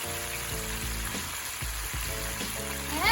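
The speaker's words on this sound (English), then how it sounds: "We're just gonna let these take some time to simmer down in the oil and the vinegar mixture." Fish frying gently in a pan of hot oil mixed with white vinegar and salt, giving a steady close sizzle and crackle throughout with a few small pops and no talking.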